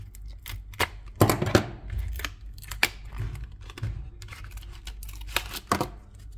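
A box of gold Pokemon cards is opened and handled, with sharp close snips, crinkles and papery rustles in irregular bursts, a few louder clicks standing out, and no talking.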